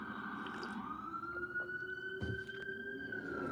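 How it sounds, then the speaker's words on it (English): Emergency sirens wail along a New York street, a steady rising-and-falling tone holding throughout at moderate distance over constant traffic rumble, with no voices. "Sorry for the sirens."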